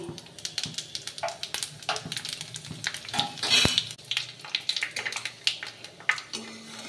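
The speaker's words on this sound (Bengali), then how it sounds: "এবার দিয়ে দেব 2 শুকনো লঙ্কা ফোড়ন, আর দেব দারচিনি, লবঙ্গ, এলাচ, দিয়ে দেব 2 তেজপাতা, দেব 5 ফোড়ন" Whole spices, dried red chillies, cinnamon, cloves, cardamom, bay leaves and five-spice seeds crackle and sizzle in hot mustard oil for a khichuri tempering, with close, busy popping spits and occasional utensil clinks, no talk.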